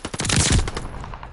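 Rapid automatic gunfire in a video game, a dense, loud burst of overlapping shots peaking midway, then fading into scattered echoes.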